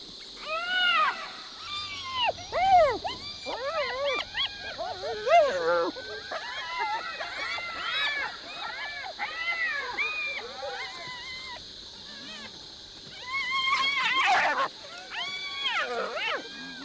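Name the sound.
wild dog confronting a hyena at night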